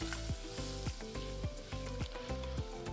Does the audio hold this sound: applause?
no